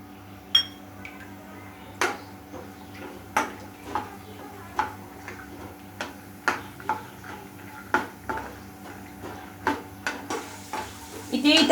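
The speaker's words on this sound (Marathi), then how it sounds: "शेंगदाणे तळून घेऊया." Peanuts fry in a few spoonfuls of oil in a pan, a soft continuous sizzle broken by regular sharp taps and clinks of a stirring spoon about once a second, close and clear.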